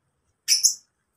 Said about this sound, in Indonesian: Nah, burung lovebird ini